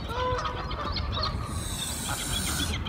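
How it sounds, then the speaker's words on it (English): A goose that has climbed onto a boat hisses, a breathy high hiss that swells in the second half over a steady, noisy outdoor background. "Don't hiss at me!"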